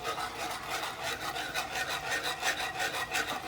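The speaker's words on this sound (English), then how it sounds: "You want to just keep it whisking, keep it moving on the bottom of the pan." A whisk scrapes rhythmically across the bottom of a pan as flour is stirred into sauce for jerk mac and cheese, a close, steady series of scratchy strokes with no voices.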